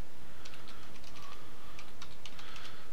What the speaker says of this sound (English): I'm going to just type exit.